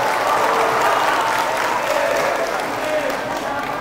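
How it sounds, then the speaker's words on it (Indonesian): A congregation applauds inside a mosque during a preacher's religious talk, a short burst of dense clapping from many hands. "Jadi di masjid itu kalau bisa jangan tepuk tangan."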